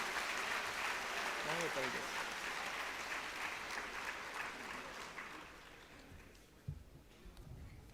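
Conference audience at an inaugural session for CA students applauds, a steady wash of clapping that starts loud and slowly fades over several seconds, with a voice briefly speaking over it.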